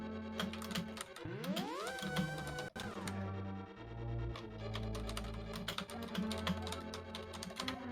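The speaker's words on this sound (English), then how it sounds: "I hear typing this time, so that's a good sign." Rapid clicking of a computer keyboard runs through the clip under loud chiptune-style game music from a Zelda: A Link to the Past randomizer tournament stream. The keystrokes are close but partly buried in the music.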